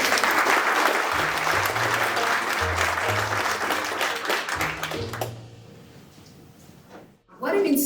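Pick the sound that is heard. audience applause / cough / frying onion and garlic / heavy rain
audience applause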